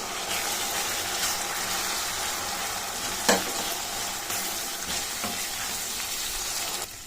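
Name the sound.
moong dal frying and being stirred in pan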